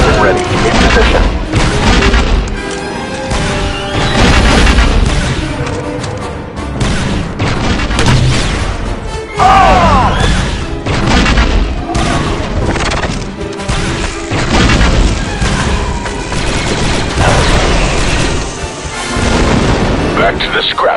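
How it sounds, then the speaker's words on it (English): Heavy weapon fire in the Star Wars Republic Commando video game, repeated loud booming blasts and crashes in rolling bursts amid dense battle noise, with voices speaking now and then. "Give us heavy weapon fire, Delta."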